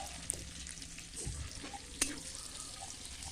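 Food lightly frying in a pan before meat is added, with a soft, low sizzle, a few small clicks and clatters, and a faint watery hiss. No one speaks.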